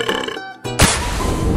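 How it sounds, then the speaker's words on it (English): A loud, close burp rumbles out after a short pause in a funny food challenge with geometric shape foods, preceded by a brief voiced sound. "I think I'm burping."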